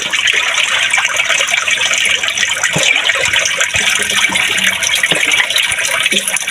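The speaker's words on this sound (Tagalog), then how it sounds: "Ayan, lapit na mapuno mga kaipis yung malaking galon." Cold spring water gushes steadily and loudly into a large gallon jug, a constant close splashing rush with no talk over it.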